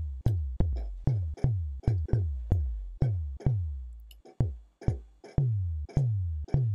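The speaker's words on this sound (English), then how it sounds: "So we have a basic tom-tom sound." Synthesized tom-tom drum made with a resonating filter, a steady series of short punchy hits with a click attack and a quick downward pitch sweep, repeating at an even pace, alone and close.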